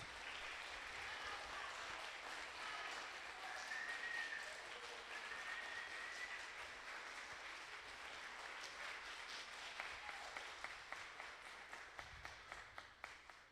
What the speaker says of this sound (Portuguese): Uma salva de palmas aos irmãos.